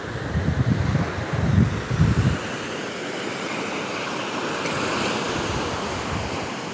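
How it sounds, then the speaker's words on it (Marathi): Ocean waves wash in a steady broad roar at a seashore, with a louder rumbling surge at the start, then a constant hiss of surf and wind. "आमचा समुद्र बघा"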